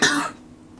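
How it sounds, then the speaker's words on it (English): A single sharp cough bursts out loud and close, then trails off into quiet room tone. "sorry, I have a bit of cough there"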